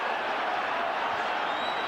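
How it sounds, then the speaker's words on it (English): Boxing crowd at Madison Square Garden during the Hagler vs. Hamsho fight, a dense, steady roar of cheering that carries across the whole arena without a break, loud and continuous. "Crowd on its feet at the Garden"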